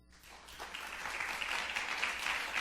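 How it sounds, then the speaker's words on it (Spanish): Applause from a church congregation during a Spanish-language sermon, a dense steady patter of many hands swelling in and holding for a couple of seconds, moderately distant. "Denle un aplauso al Señor."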